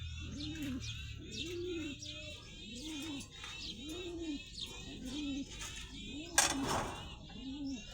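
Pigeons coo in a slow, regular series of low rounded calls, close by, with a brief clatter and faint chirps in the background.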